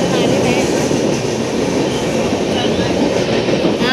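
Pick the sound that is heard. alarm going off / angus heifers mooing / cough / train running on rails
train running on rails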